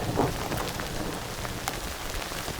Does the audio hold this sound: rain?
yes